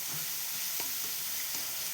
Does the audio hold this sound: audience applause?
no